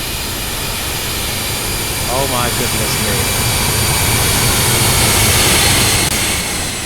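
Jet airliner engines at a busy simulated Heathrow in X-Plane 11, a steady loud broadband roar filling the scene, with a short exclaimed remark over it.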